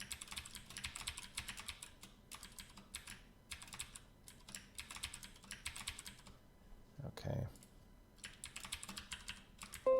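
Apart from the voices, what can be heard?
typing on a computer keyboard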